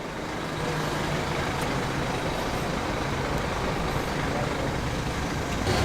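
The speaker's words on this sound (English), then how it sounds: "We saw this Thames 4D driving in before as well." A classic Thames 4D diesel lorry drives past on a classic lorry run, its steady low engine rumble loud and continuous throughout with no talking.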